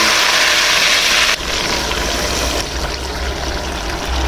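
White beans (lobia) go into hot oil with a loud, steady, hissing sizzle that eases slightly after the first moments and then stays constant.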